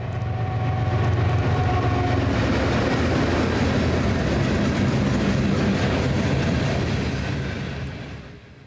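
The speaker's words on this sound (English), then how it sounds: "First off was the Lincoln to Denver manifest train." A BNSF manifest freight train running from Lincoln to Denver rumbles past steadily and loudly, with deep rolling rail noise and wheel clatter sustained for several seconds before easing off at the end.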